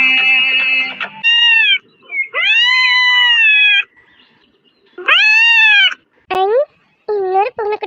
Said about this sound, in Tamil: இன்னொரு பூனைக்குட்டி.